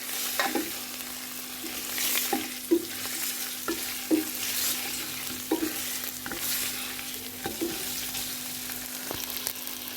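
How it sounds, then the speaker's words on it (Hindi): Chicken pieces sizzling steadily in a hot pan while a utensil stirs them, with soft scraping clinks recurring every second or so over the continuous frying hiss. "हमें चिकन को इतनी देर फ्राई करना है"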